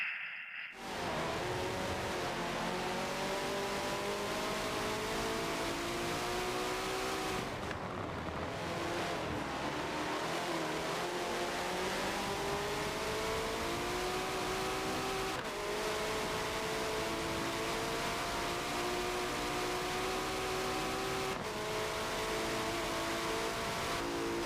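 Several race cars running close together in a 24-hour endurance racing game at Circuit Spa-Francorchamps, a loud continuous engine drone with layered rising and falling engine tones from nearby cars and brief dips as gears shift.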